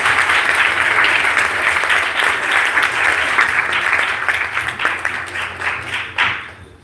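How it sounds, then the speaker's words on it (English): An audience claps loudly and steadily for a sumo footwork demonstration, a dense wash of applause that holds for several seconds, then thins and fades toward the end. "Can we get a round of applause for the suriashi"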